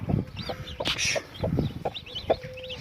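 A hen clucks among her chicks, newly accepted foreign ones mixed in, giving low repeated clucks close by while the chicks' high peeps chirp steadily throughout and a short rustle sounds near the middle.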